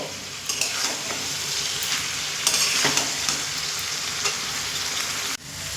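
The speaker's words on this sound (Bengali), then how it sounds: "জল দিয়ে আবারও দু থেকে তিন মিনিট মশলার সঙ্গে সব উপকরণ খুব সুন্দর করে কষিয়ে নেব" Malabar spinach cooking with spices and a splash of water in a pan, a steady hissing sizzle with repeated scraping stir strokes, close and continuous, briefly dropping near the end, with no speech.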